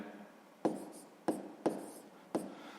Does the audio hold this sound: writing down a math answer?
yes